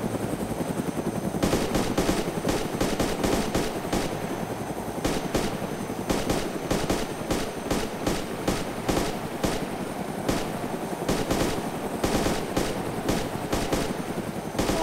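Rapid bursts of machine gun fire from a helicopter door gunner in a video game, loud repeated volleys over a steady rotor drone with short pauses between bursts.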